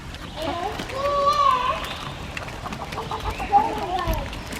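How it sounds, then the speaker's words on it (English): Chickens and a rooster cluck and warble close by, with bursts of throaty calls rising and falling over a low background rumble. "I definitely think that's a rooster"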